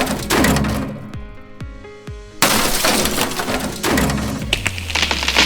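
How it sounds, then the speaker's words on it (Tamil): Loud crashing and splintering, with heavy thuds and breaking debris in repeated bursts, close and without speech. "பழவண்டியும் நொறுங்கியது."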